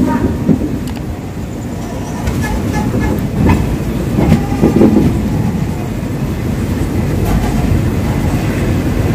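The Mysore–Kacheguda SF Express sits at Gooty railway station, with a loud rumble and clattering wheels close by. Voices can be heard faintly in the background.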